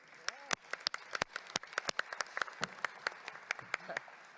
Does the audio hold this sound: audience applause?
yes